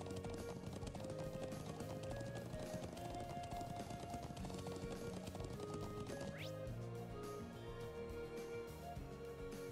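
Rapid rhythmic hoofbeats of a galloping horse in The Legend of Heroes: Trails of Cold Steel on PS4, over layered game music and effects, steady and loud throughout, with a rising whoosh midway.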